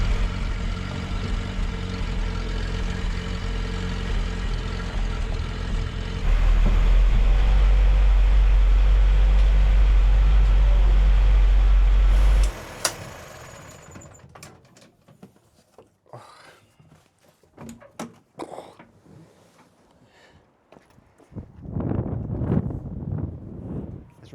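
A Land Rover Series 2A engine cranks and fires, giving a loud, steady low rumble that runs for several seconds and then cuts out abruptly, followed by quieter clatter and talk.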